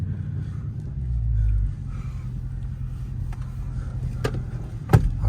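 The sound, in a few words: Dodge Scat Pack car with mid muffler delete exhaust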